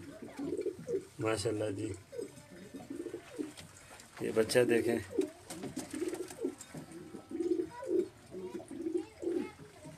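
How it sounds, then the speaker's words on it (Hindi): Rooftop flying pigeons, including a Sialkoti youngster, give repeated soft, throaty coos close by while someone talks over them in bursts. "ये उड़ाने वाले कबूतर दिखा रहा हूँ मैं आपको"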